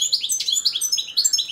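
Balkan goldfinch (Carduelis carduelis balcanica) singing alone at close range, a quick run of bright, twittering chirps and trills in a steady rhythm, a song regarded as carrying a fault.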